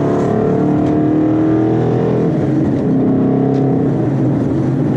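A bagged 2013 Ford Mustang GT with its 5.0 V8 drones loudly from inside the car while driving, a steady low engine rumble with shifting tones as revs rise and settle, no voices.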